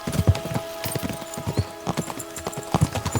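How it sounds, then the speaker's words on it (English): Galloping horse hooves in a video game, a loud rapid clip-clop rhythm of several beats per second running steadily throughout, with no talk over it. "We should spur the horses on."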